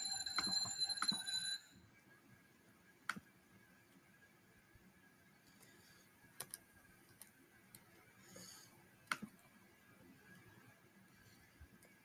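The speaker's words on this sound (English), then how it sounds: "Ah, stupid alarm." A bright, rapid electronic alarm beeps loudly for a second or two, then stops, leaving quiet room tone with a few faint ticks and taps.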